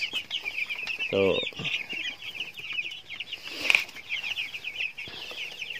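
Broiler chicks and chickens outdoors before dawn cluck and peep continuously, with a short burst of wing flapping and a loud squawk, close by, and someone briefly speaks.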